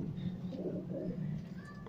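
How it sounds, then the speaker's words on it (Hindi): Soft, low cooing of pigeons murmurs continuously nearby, a steady throaty warble with faint background noise. "कुछ कबूतर हमारे इस साइड पे हैं"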